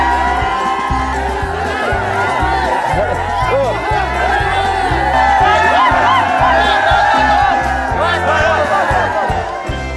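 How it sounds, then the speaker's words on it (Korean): A crowd of spectators cheers loudly and steadily through a tight, close contest, with shouting, whooping and rhythmic chanting layered with children's voices and speech. "다들 기대가 얼마나 큰지 응원전이 치열합니다."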